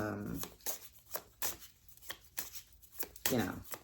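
Goddess Oracle cards being shuffled by hand, a series of quick papery riffling bursts in an irregular rhythm, close and fairly quiet, with a voice speaking briefly at the start and again near the end.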